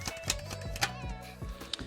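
Tarot cards shuffled quickly by hand, a run of crisp riffling flutters and soft slaps repeating in close, brisk succession with no voice over them.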